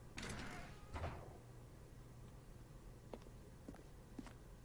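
Footsteps and a door in the video game The Stanley Parable, heard as a couple of faint, soft thuds near the start followed by a few light, sparse taps and clicks against a quiet background hum.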